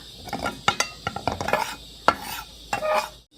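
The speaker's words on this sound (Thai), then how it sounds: "เราก็จะผัดผัด ผัดไปเรื่อย ๆ นะคะจนกว่าแป้งจะแบบ ไม่ติดกระทะ" Spoon or spatula scraping and knocking around a pan as thick rice flour dough for daifuku is stirred, with irregular clinks and scrapes close up.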